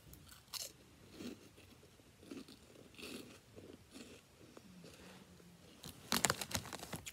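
Crunchy bites of Flamin' Hot Cheetos being chewed up close, several distinct crisp crunches spaced a second or so apart with quieter chewing in between, ending in a louder flurry of crackling bites.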